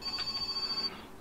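A phone rings in the video game My Summer Car with a steady electronic trill of rapid pulses. The ring is fairly faint and lasts about a second before it stops.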